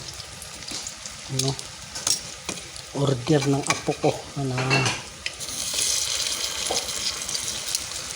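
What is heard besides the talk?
bananas frying in oil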